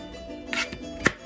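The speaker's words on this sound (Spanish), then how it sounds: "Estamos picando aquí el ocumito." A knife chops young ocumo (small taro) on a cutting board, two or three quick, close, crisp cuts within about a second, faint and alone.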